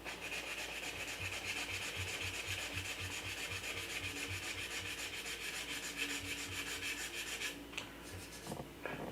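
Sandpaper rubbing steadily back and forth over a repaired spot on a 1/4 scale Spider-Man figure to feather the edges, making a continuous close, quiet rasp with a regular stroke rhythm.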